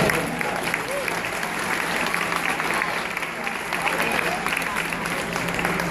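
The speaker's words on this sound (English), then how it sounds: "You can clap for the palm civet." Zoo audience clapping at an animal presentation featuring a palm civet at Busch Gardens, a steady wash of applause with a faint voice underneath, fading slightly toward the end.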